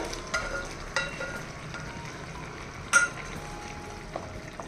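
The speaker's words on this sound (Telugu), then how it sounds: "ఇదిగోండి చక్కగా ఉడుకుతుంది కూర" Tamarind curry bubbling and sizzling in a pan on the stove, a continuous soft fry with occasional sharper pops and spoon clinks, close and fairly quiet.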